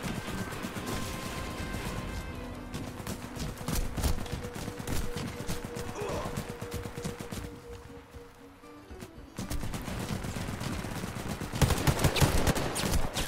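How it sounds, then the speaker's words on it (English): Warface on Nintendo Switch: rapid bursts of automatic gunfire crackle almost continuously, with a lull midway before dense shooting resumes loud and close. "Who's shooting at me?"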